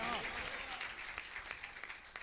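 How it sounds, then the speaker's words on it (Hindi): Congregation clapping during a Hindi church sermon at an anniversary service, a brief burst of applause that fades into scattered claps after a voice at the start. "ताली बजा दीजिए"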